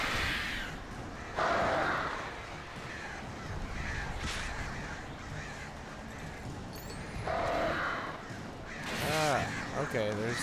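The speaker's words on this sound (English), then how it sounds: "there's a lot more birds now" In the video game Alan Wake, crows caw repeatedly in harsh bursts over rumbling game noise, and a person talks throughout.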